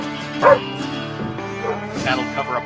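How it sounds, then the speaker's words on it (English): Dogs bark and yip several times, moderately close, mixed with other tonal background sounds. "That'll cover up the dogs barking."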